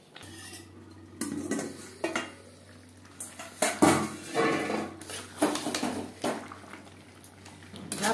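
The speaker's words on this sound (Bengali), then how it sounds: "মশলার সাথে আলু এঁচোড় বেশ ভালো করে মিক্সড করে দেব" Potato and young jackfruit being mixed with spices in a cooking pot, with repeated clanks and scrapes of a metal spoon against the pot in an uneven rhythm, close and fairly loud.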